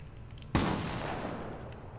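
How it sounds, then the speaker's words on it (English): A single loud cannon launch in a video game, a sharp boom followed by a whooshing rush that fades over the next second and a half. "I got around with the cannon. Launching all the way to the storm."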